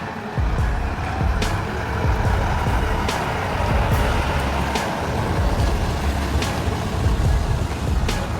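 A heavy rig hauling a Liebherr 964 and a Cat 336 excavator rumbles steadily on a roadway, its broadband engine and road noise continuous and fairly loud, with a few sharp high clicks or hisses scattered through.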